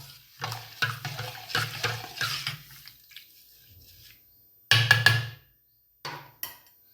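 Half a kilo of rice washed by hand in water, sloshing and swishing in repeated bursts with quiet pauses between them, close and fairly soft.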